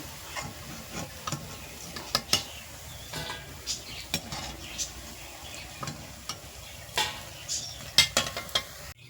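Chushi pitha, small semolina and rice-flour dumplings, frying in oil, a soft steady sizzle broken by light clicks and stirring taps, fairly quiet throughout.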